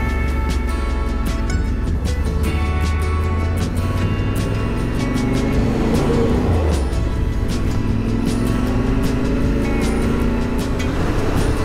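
A motorcycle rolls off at the start of a solo trip toward Iceland, its engine droning steadily and close throughout, rising in pitch as it accelerates, with no talk over it.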